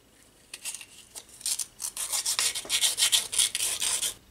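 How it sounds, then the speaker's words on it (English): Wooden parts of a UGEARS Cobra drift car mechanical model being sanded smooth by hand, a run of quick, close rasping strokes that start sparse and settle into a steady rhythmic scrubbing. "So it looks like I need to smooth all these parts down."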